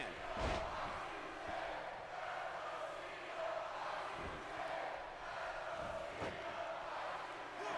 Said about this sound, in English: The crowd is 50-50 right now between Jericho and John Cena right now.